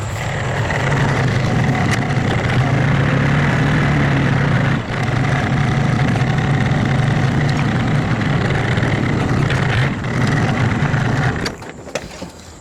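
A tractor engine idles steadily and loudly nearby, a continuous low rumble with a mid-range drone, running without change before cutting off near the end, outdoors while a long tree caber is prepared for Highland games.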